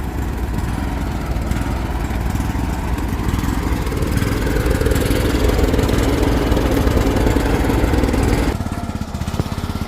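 A small excavator's diesel engine runs loud and close, a steady chugging rumble that rises as it revs, then drops back toward idle near the end.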